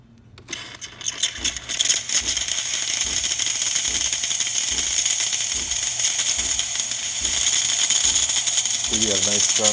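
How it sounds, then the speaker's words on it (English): The steam wand of a serviced DeLonghi EC680 espresso machine hisses steadily after a brief sputtering start, a loud continuous high rush with a faint rhythmic mechanical ticking beneath, the hiss swelling slightly toward the end. "So you have nice strong steam."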